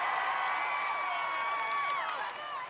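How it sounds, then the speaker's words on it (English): A large indoor crowd at a women's obstacle course championship roars and cheers in a sustained, slightly distant wash of voices, with a few whoops rising above it. "She hears the crowd chanting her name."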